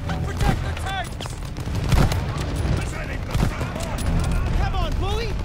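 Heavy Call of Duty Vanguard battle gunfire, rapid bursts and booming shots rolling under shouted voices calling out orders throughout.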